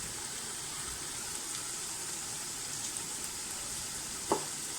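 Spices fry in a pan for vegetable rice, giving a continuous soft sizzle with a brief clink near the end and no voices.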